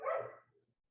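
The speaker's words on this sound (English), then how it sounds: "Sorry about the dog. He's going bananas." A puppy gives one short bark that trails off fast, close and fairly loud against otherwise quiet surroundings.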